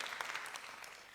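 Brief burst of audience applause at a Neapolitan talent event, steady dense clapping with no voices, fairly quiet and lasting only a moment.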